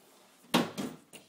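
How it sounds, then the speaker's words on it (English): A plastic door on a child's Cozy Coupe ride-on toy car is opened and shut: three short, hollow knocks close together, the first the sharpest, each on its own against quiet room tone. "Close the door. Open the door. Close the door. Open the door."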